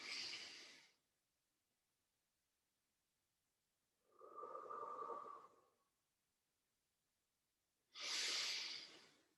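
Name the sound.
deep recovery breaths during Pilates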